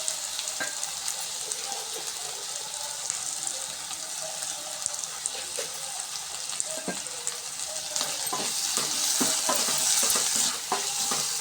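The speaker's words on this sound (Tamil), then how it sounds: "பாருங்கள் வெங்காயம் வதங்கிடுச்சு இந்த நேரத்தில் நம்ம தக்காளி ஆட் பண்ணிக்கலாம்" Onions and tomatoes sauté in a pan for snake gourd kootu, giving a continuous close sizzle with scraping stirs, growing louder and busier toward the end, with no talking.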